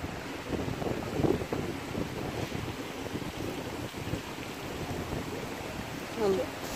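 Wind gusts at a Turkish five-star hotel by the sea, rushing steadily against the microphone in a broad, noisy roar with faint surf-like swells and occasional brief thumps.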